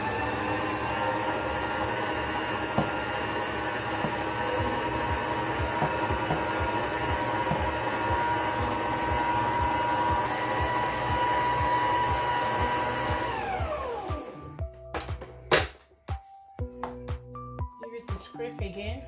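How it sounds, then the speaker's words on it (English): An electric mixer beats sugar and butter for a soft vanilla sponge cake, giving a loud, steady motor whir for about fourteen seconds before it winds down. A few clattering knocks from the bowl follow. "I'm going to beat it again for another 2 minutes"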